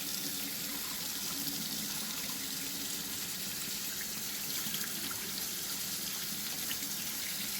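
Hot water running from a tap, a steady continuous rush with no breaks, moderately quiet and heard alone without voices.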